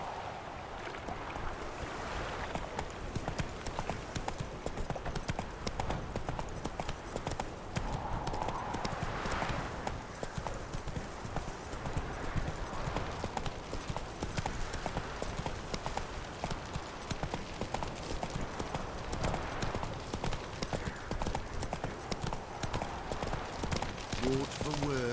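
A horse galloping in The Witcher 3, a continuous rapid drumming of hoofbeats with wind and surf-like washes in the background, steady and moderately loud throughout.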